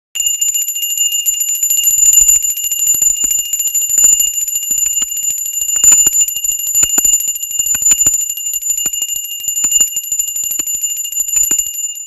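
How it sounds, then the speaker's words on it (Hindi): A hand bell rung continuously during home Janmashtami worship of Laddu Gopal, a bright, steady metallic ringing that runs for the whole stretch at a loud, even level with no talk over it. "या हम घंटी भी बजा सकते हैं"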